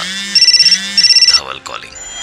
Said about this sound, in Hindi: उसी वक्त दोनों का फोन एक साथ बजा